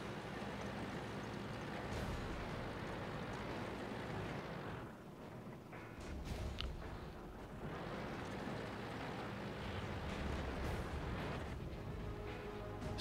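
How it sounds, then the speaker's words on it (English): Artillery fire finishing off an enemy tank in World of Tanks, a sustained, rumbling barrage of heavy blasts and battle noise with a brief lull in the middle before the roar resumes. "And our artillery finishes him off."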